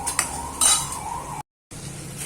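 Chopped onion is sautéed and stirred in a pan: a metal spoon clinks and scrapes against the pan in short bursts, fairly close, with a brief drop to silence partway through.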